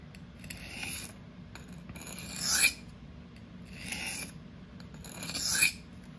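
REX-45 super steel knife sharpened freehand on a stone, four slow rasping strokes, each swelling to a brighter scrape at its end, close and fairly quiet.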